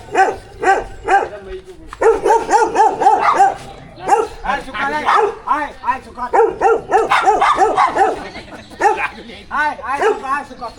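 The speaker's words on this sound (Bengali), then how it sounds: "আপনারা আসলে এরকম সুন্দর সুন্দর কুকুরের ডাক শুনতে পাবেন মুজাফফর গার্ডেনে" German Spitz dogs bark at Muzaffar Garden in loud, close, rapid bursts of barks and yips that continue almost without pause, with people talking among them.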